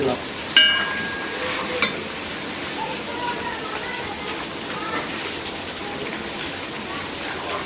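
Dried red chillies and cumin seeds frying in hot oil in a pot while cooking a large pangas fish curry at home, giving a steady, close sizzle with light stirring clinks throughout.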